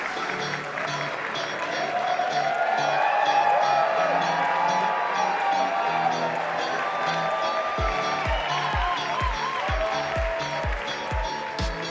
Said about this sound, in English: Thank you for the lukewarm round of applause